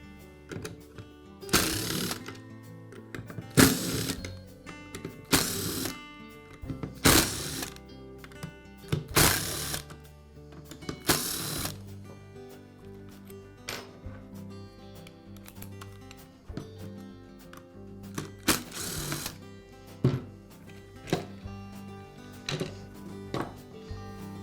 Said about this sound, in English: I'll begin by removing the screws that secure the two halves of the clamshell